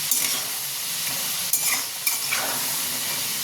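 Potatoes frying in a pan with a loud, dense sizzle and a few brief stirring scrapes, close up and without talk.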